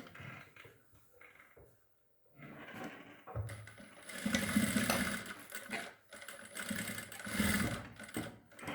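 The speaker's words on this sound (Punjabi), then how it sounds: "ਹੁਣ ਆਪਾਂ ਇਹਦੇ ਉੱਪਰ ਸਲਾਈ ਲਗਾ ਦਾਂਗੇ" A sewing machine sews along a cord for a latkan tassel: quiet handling and clicks first, then several close, rapid whirring stitching bursts separated by short pauses.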